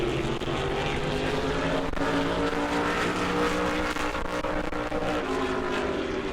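A NASCAR Whelen Modified race car laps at New Smyrna during qualifying, its loud, droning engine note running steadily throughout with no voices.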